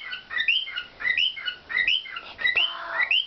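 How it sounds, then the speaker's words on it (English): A pet bird sings on its perch late at night indoors, a run of bright whistled chirps and squawky notes repeating in short bursts, fairly close and alone without talk. "he's walking back and forth on his perch, making heart wings and singing"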